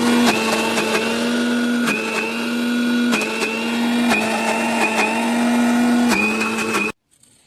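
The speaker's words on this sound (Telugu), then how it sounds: "ఇప్పుడు మిక్సీ పట్టుకొని చూపిస్తాను." A mixer grinder churns soaked urad dal with a loud, constant motor whine that surges in repeated pulses every second or so, then cuts off suddenly at the end.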